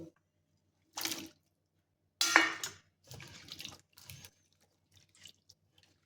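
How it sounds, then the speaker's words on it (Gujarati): Fresh green turmeric and mango turmeric roots being washed in water, with short bursts of splashing and tap-like trickling separated by quiet gaps, close and moderately loud, then fading to faint drips. "તો આ જ રીતે આપણે અહીંયા બે પાણીથી ધોઈ લઈશું"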